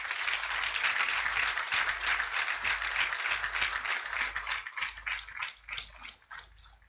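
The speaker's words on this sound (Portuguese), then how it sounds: "Peço uma grande salva de palmas." Applause from a large crowd at a political ceremony, dense and sustained clapping that fills the whole stretch before thinning toward the end.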